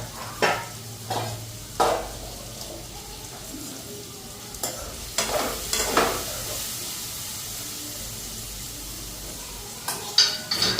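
Bread frying on one side of the stove while a fried dish cooks on the other, a steady sizzle broken by repeated scrapes and clinks of a spatula stirring against the pan, close and fairly loud with no talk.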